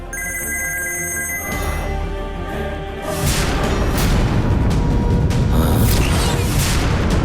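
A phone rings with a steady electronic bell tone for about a second and a half, then a loud dramatic boom and rumbling sound effect takes over, in a Bhojpuri television serial.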